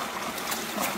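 Water splashing and trickling steadily over a dog during an outdoor bath by a creek in the country, a continuous close wash of running water with no talk.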